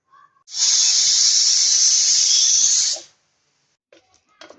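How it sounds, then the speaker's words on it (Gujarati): A pressure cooker cooking cluster beans releases a loud, close, steady jet of steam hiss lasting about two and a half seconds, then cuts off, leaving brief faint clicks afterward. "કુકરનું ઢાંકણ બંધ કરીને 4 સીટી થવા દઈશું આપણે"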